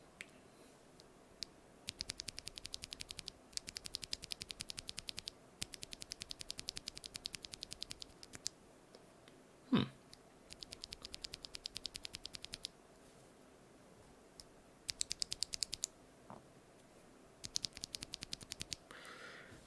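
Lubed NovelKeys BOX Cream mechanical keyboard switches pressed in quick clustered bursts of close, crisp clicking, separated by short pauses, with one sharper louder clack midway; no talking.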